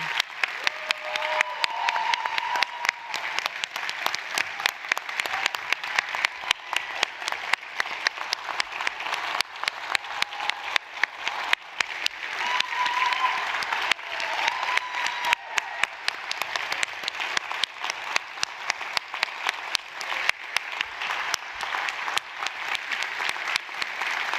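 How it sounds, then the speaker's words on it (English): A large audience at an education awards celebration gives a long standing ovation, sustained dense clapping with faint cheering that rises and falls over about twenty-four seconds. "Let's give them a round of applause as you see them come across the screen."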